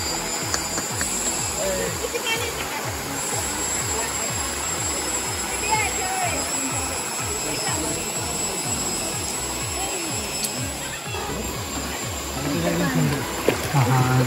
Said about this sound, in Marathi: तर मित्रांनो हा छोटासा धबधबा